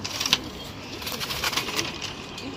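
Domestic pigeons coo softly and steadily against a constant background hiss, with a slightly louder note near the start and no one talking.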